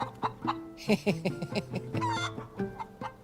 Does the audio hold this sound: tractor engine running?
no